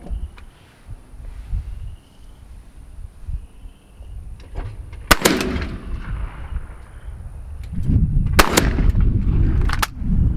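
Two sharp, loud shotgun blasts about three seconds apart, fired at a report pair of clay targets on a quail course, with wind noise and handling sounds between them.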